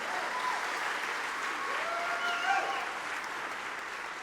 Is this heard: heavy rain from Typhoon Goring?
no